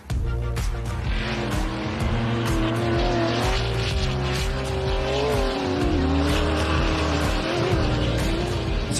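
A 7-litre Tatum off-road race car at a river dash race roars loud and close, its engine note rising and falling with strained revving throughout, no talk over it.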